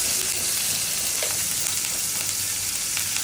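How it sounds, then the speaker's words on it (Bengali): Shrimp frying with turmeric in a hot pan, a steady, dense sizzle that stays loud and even throughout, with a few faint stirring scrapes and no talking. "সামান্য হলুদ দিয়ে চিংড়ি মাছটা ভেজে নেব"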